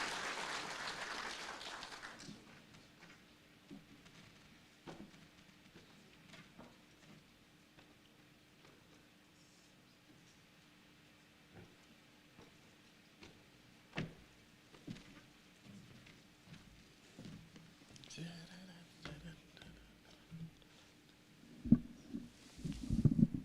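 An audience at the CCMA Indaba breaks into a brief burst of applause that fades within about two seconds, leaving a quiet hall with occasional soft knocks and shuffles.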